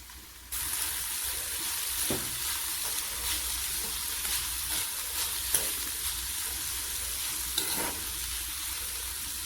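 Lentils with grated coconut, turmeric, cumin, chopped garlic and salt being stirred in a pan for a Kerala dish, a steady close sizzle with scattered scraping spoon strokes throughout, no voices.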